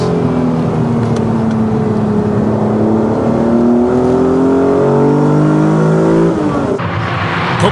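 An old Porsche race car engine revs hard on a circuit, a loud, close, rising mechanical howl that climbs steadily through the gears before easing off near the end.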